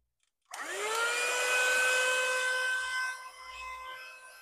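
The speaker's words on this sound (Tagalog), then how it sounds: "i-try natin ngayon guys, maglinis or mag-vacuum." A portable vacuum cleaner switches on after a moment of silence, its motor whining up in pitch to a loud steady hum, then settling slightly lower as it keeps running.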